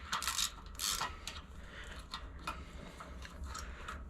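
Small metal clicks and scrapes as a screwdriver twists a 1/4 inch nut off a wire terminal on an air compressor, a few sharp ticks early on, then quieter fiddling with a low hum beneath.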